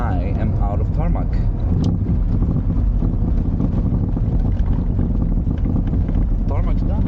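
A classic Mini drives along a tarmac road in Greece, giving a loud, constant engine and road roar buffeted by heavy wind noise, with faint voice-like sounds mixed in.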